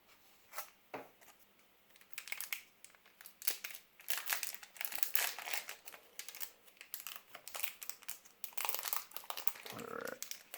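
Star Wars Young Jedi Boonta Eve card pack wrappers crinkle and crumple close up in repeated bursts of varying loudness, with short pauses between them and no voices.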